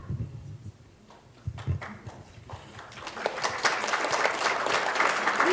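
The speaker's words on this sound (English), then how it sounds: "We always welcome applause." Audience applause at a live juried art competition, starting with a few scattered claps and murmurs, then swelling into fuller, steady clapping from a seated crowd.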